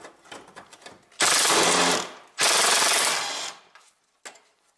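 A power tool with a 10 millimeter socket whirs in two long bursts loosening radiator bolts on a 2002 to 2009 Toyota Prius with a 1.5 engine, loud and close, with softer clicks and handling noise between.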